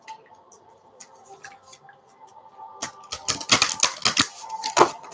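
A deck of large mystical wisdom cards being handled and shuffled, with soft scattered taps at first, then a denser burst of crisp riffling flicks and slaps up close.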